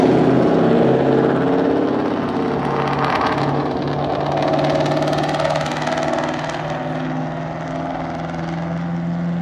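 A 1966 car fitted with glass pack mufflers accelerates through the gears, its steady, loud engine drone rumbling continuously throughout without talk.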